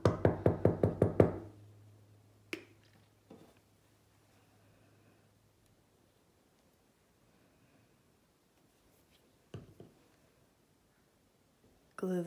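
Several quick taps of a capped glue bottle in a burst at the start, close and crisp, during sugar skull crafting, followed by near silence with a couple of isolated knocks.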